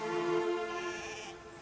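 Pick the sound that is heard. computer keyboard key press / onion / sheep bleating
sheep bleating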